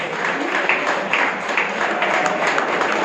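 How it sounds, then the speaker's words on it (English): An audience at a leadership talk applauds a group of children, a steady, dense wash of many hands clapping, moderately loud and sustained throughout without a break. "Give them a big round of applause."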